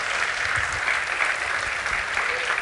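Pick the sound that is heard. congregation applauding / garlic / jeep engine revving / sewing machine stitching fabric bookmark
congregation applauding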